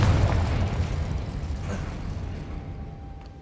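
Confringo fire spell bursting in Hogwarts Legacy, a heavy booming blast right at the start that rumbles and fades away over a few seconds.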